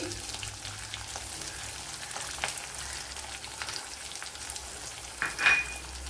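Dried red chillies with crushed ginger and garlic frying in a pan, a soft steady sizzle with faint stirring clicks and a brief louder scrape near the end.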